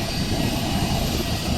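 Engine of a small passenger airplane running nearby, a steady loud propeller-style drone that holds constant throughout without pause.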